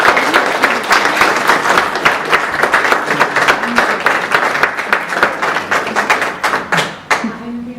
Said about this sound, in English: So I want to have everybody clap to welcome Shawné.